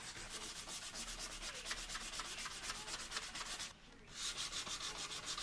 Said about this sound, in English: Hand sanding is always required, and it gets rid of any of the swirly marks from sanding.